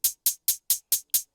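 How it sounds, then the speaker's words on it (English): Hi-hat pad on an MPC X playing a steady triplet pattern: seven crisp, bright closed hi-hat ticks evenly spaced over about a second and a half, close and alone. "When we use triplets, it sounds like this right here with the hi-hat pad."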